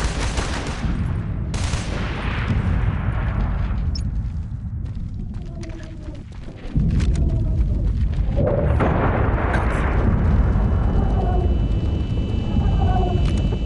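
Dense, continuous roar of enemy artillery blasts and gunfire in the video game Socom 4, loud and sustained with a sharp jump in intensity halfway through and crackling debris on top.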